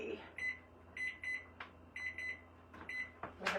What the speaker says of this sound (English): I have to put a timer on